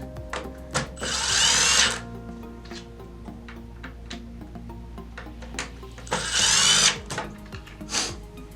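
A cordless drill drives screws into the engine assembly of a Zodiac MX8 suction-side pool cleaner, two loud sustained bursts of close whirring separated by quieter ticking and handling clicks.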